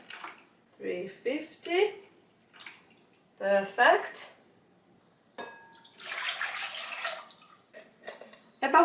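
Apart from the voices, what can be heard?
lukewarm tap water being poured into a bowl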